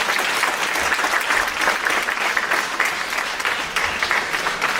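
Sustained, dense applause from an audience at a diaspora awards ceremony, steady and loud throughout with no breaks.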